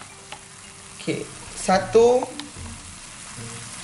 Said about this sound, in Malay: kita masukkan 2 sudu besar cili mesin